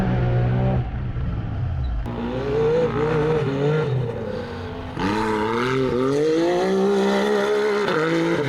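A UTV races past at speed on the Little Sahara dunes during a Red Bull race, its engine roaring loud and near and climbing through gear-like revving surges, then fading and surging again.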